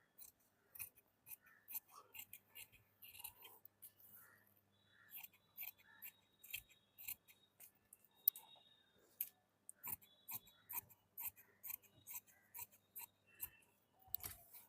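Sharp scissors snip through suit fabric in a steady series of crisp, close cuts, repeated rhythmically with short pauses while the cloth is shaped for stitching.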